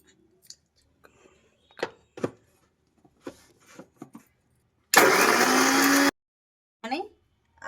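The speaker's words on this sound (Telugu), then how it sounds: "మిక్సీ వేసుకుందాం." A mixer grinder whirs loudly for about a second, grinding chillies with salt and turmeric, a dense steady roar that cuts off abruptly, framed by scattered clicks and handling taps before and after.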